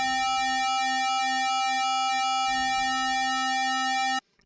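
Arturia JUP-8000 V software synth with a fast LFO rate, a sustained bright buzzy tone with a rapid wobbling pulse, held alone for about four seconds before stopping suddenly.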